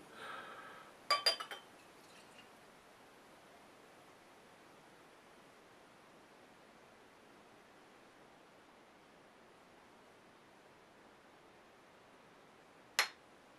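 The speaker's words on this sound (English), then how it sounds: "Let's get the cap off of it and get it into the glass." A Victory Dirtwolf double IPA bottle cap snaps off with a sharp metallic pop and rattle. A long near-silent stretch follows before a single bright clink against a Teku glass, all faint and close.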